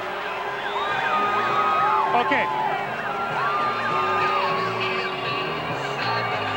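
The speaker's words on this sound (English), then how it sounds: "the crowd here in Calgary is loving it" A stadium crowd cheering at a CFL football game in Calgary between the BC Lions and Calgary Stampeders, a broad, steady roar of whoops and yells under a commentator's voice.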